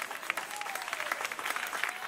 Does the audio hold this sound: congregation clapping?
yes